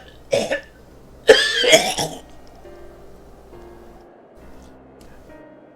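A Final Fantasy XIV video game character coughs in two bursts, the second a harsher, longer fit, heard close, then a quiet stretch with only a low background hum.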